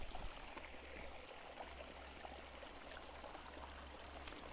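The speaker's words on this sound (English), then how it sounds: "check out this beautiful waterfall" A waterfall in a rainforest rushes softly and steadily, heard at a distance as a low, continuous wash of falling water with no voices.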